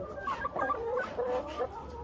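A laying hen clucks close by in a poultry shed, a few short throaty clucks in quick succession, fairly quiet, with no talk over it.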